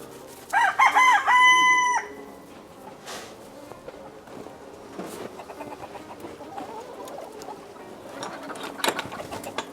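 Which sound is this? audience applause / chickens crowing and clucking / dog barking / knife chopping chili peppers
chickens crowing and clucking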